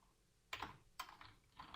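Faint keystrokes on a computer keyboard as code is typed, three short clusters of clicks in an otherwise quiet room.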